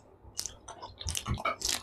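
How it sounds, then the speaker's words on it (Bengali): Close, wet chewing and crunching of fruit being eaten, several irregular bites and chews packed into under two seconds. "ফল খাই এখন"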